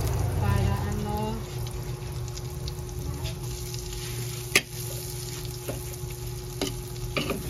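Butter sizzling in an unwashed frying pan before onions go in for adobo sauce, a steady crackling hiss with a few sharp clinks of utensils against the pan.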